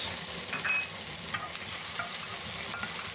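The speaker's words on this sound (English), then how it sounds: "Top up a little more oil and add in dried red pepper and Sichuan peppercorns." Dried red chillies and Sichuan peppercorns hit hot oil for Kung Pao chicken, giving a steady, close sizzle with light stirring scrapes throughout and no talking.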